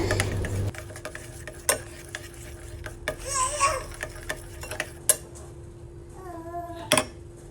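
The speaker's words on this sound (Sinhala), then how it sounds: "දැන් මේ ටික ඔක්කොම හොඳින් කලවම් කරගන්න" Short scraping and clinking of a utensil stirring soya meat curry ingredients in a bowl, a few brief knocks and swirls, fairly close, with no talking.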